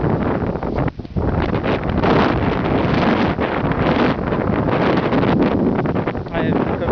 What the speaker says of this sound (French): les rafales de vent, c'est facile de mettons d'être surpris par une bourrasque de vent et tomber